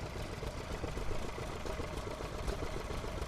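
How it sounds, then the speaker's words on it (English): A vintage Petter W1 stationary engine running at a working show, a steady rhythmic chugging thump at close range over broad outdoor noise. "Lovely little Petter, W1."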